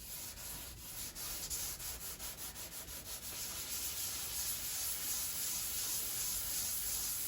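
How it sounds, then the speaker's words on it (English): Sandpaper rubbed by hand over car body filler on a Jeep Patriot, a steady close dry scratching with rhythmic strokes early on that settles into continuous rasping, with no talk. "You just lightly apply the sandpaper."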